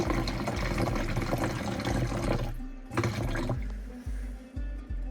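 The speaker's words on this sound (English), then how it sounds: "So I'm going to add water till it gets there." Water poured from a tap into a container being filled to the 500 ml mark, a close, soft gushing stream that then breaks into a few short splashing bursts.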